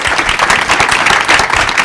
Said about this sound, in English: So if we can give a round of applause to all of our panelists.